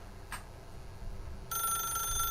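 In The Stanley Parable, an office telephone begins ringing near the end, a steady electronic trill over quiet room tone. A brief faint blip comes before it. No one speaks.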